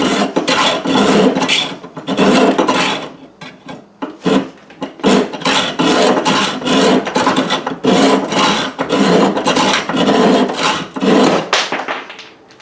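A restored Lenox hacksaw cutting a piece held in a vise, its blade rasping loudly and close in steady back-and-forth strokes with brief pauses between runs.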